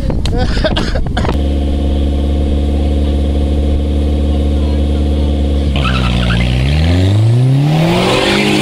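Race cars at a Corkhill racing meet roar loudly and continuously, engines holding a steady high drone before revving up and rising in pitch as they pull away, close and dominating.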